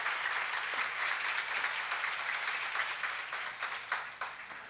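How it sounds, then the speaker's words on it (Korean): Congregation clapping in response to a pastor's request during a church sermon, a steady dense wash of many hands with a few sharper claps standing out, sustained throughout and fading slightly at the end. "박수 좀 쳐봐."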